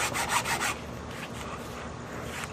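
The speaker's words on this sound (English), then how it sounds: "I'm going with a hacksaw to start figuring out the line, the angle that I want it to go with." Hacksaw drawn back and forth across a fiberglass mannequin neck, a quiet scratchy rasping with a few quick strokes at first, then a softer steady scraping.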